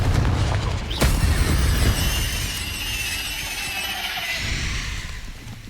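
Spell blasts and fiery explosions from the Hogwarts Legacy video game, a sharp boom near the start followed by sustained crackling, rumbling magical bursts with no speech.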